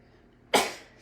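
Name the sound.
sneeze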